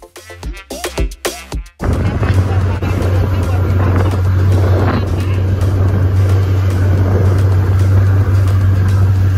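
Speedboat moving along a Cuban coast on a travel trip, giving a loud, steady engine drone with water rush that runs continuously after a brief burst of wind or handling noise at the start.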